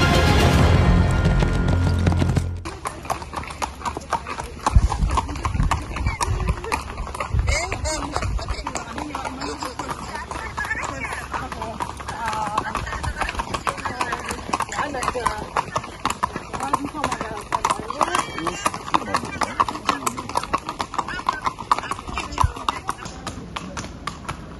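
Horses shifting inside a horse trailer, hooves clopping and knocking on the floor in a steady, irregular clatter throughout, with voices talking alongside.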